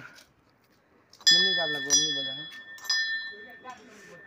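A bright ringing bell tone strikes at about a second in and rings on with a steady high pitch, with speech over it and a second strike later.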